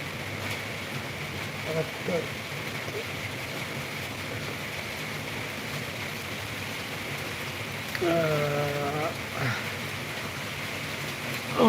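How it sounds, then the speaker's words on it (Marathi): Rain falls steadily with a continuous even hiss throughout, and a voice briefly sounds over it near the end. "पाऊस चालू आहे ना आता चालू आहे"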